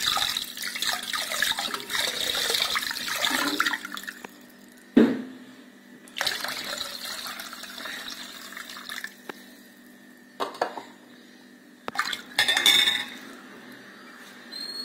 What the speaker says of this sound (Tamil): இதில் வந்து நமக்கு தேவையான அளவு நம்ம தண்ணி எடுத்து சேர்த்துக்குவோம்.